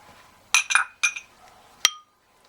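A spoon clinks against a bowl while stirring a yogurt and spice marinade with salt, pepper, curry, turmeric and oil for chicken mandi, four or five short, close metallic taps in quick bursts with quiet gaps between.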